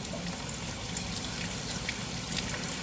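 Tap water runs steadily under a banana being peeled, a continuous even gush and splash at moderate level with no pauses.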